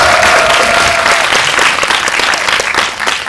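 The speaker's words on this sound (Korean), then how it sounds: "네, 박수 한번" Audience at a film Q&A session in a cinema breaking into loud, dense applause, close and sustained, easing off slightly toward the end.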